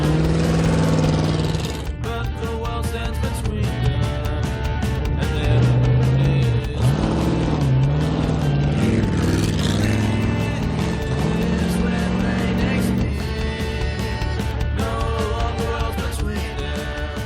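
A hot rod's 327 Chev V8, bought cheap secondhand and paired with a Turbo 350 gearbox, idles and revs loudly and steadily, its low rumble swelling in a few throttle blips with no talking.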